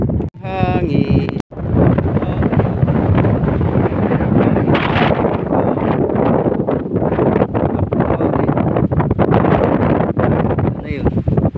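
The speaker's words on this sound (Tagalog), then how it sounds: "Hangin." Strong wind buffets the microphone, roaring and gusting continuously, with a brief voice near the start, by cold water while diving.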